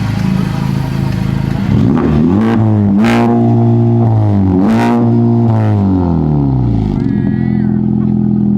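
A 2021 Honda Civic Type R, rebuilt after being totaled, revs up and down in loud bursts, climbing toward the limiter in neutral and falling away with clattering between pulls.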